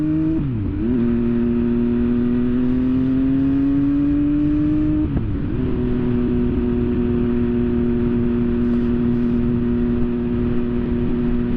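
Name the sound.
motorcycle accelerating in first gear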